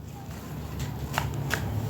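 Hands mix dry basbousa ingredients in a bowl, a soft rustling, shuffling sound with a couple of brief sharper brushes, close and fairly quiet, while a voice talks over it.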